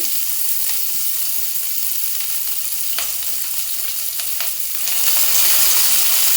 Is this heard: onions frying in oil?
yes